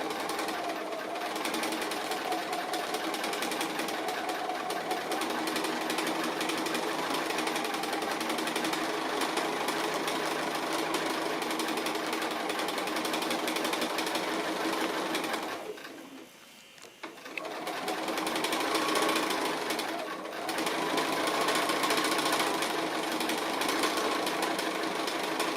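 A sewing machine runs steadily while stitching free-motion appliqué on a cat-themed quilt project, its whirring nearly continuous with a brief pause midway before it resumes at the same close, even level.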